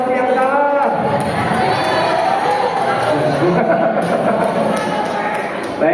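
Audience at a Majelis Ta'lim quiz competition cheers and claps for the losing team, a loud, dense crowd roar with shouting and scattered thumps that holds steady throughout.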